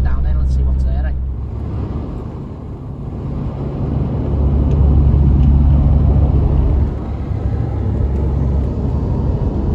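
A Mark 2 Ford Escort Cosworth with a Z-Tech turbo drives down the road. Its engine gives a steady, loud, close rumble that swells slightly midway and holds throughout, with a voice briefly heard at the start.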